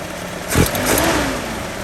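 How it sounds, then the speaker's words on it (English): Datsun 620 engine fitted with a Weber 38 carburetor blips up in a short rev around the half-second mark, then settles into a steady idle with a faint airy intake hiss, close and alone. "You can hear it really suck the air through when you give it gas."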